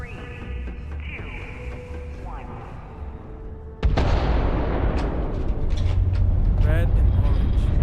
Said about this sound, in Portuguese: Ih, vai ter outra explosão.